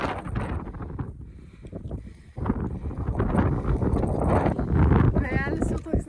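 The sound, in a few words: wind on a mountain hike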